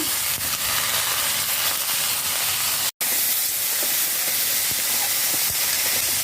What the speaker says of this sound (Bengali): কটা ফোড়ন দিয়ে দিলাম, আলুটা ছাড়িয়ে দিলাম